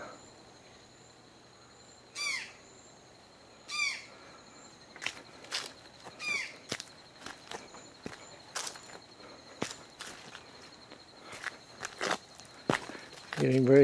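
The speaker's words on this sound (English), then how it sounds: "Birds are still chirping." A few distant bird chirps and a thin high whistle sound over crunching footsteps outdoors, with a voice briefly heard at the end.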